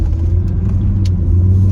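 A car engine hums and rumbles low and steady while driving after an oil top-up, with road noise and a faint click or two, and no talk.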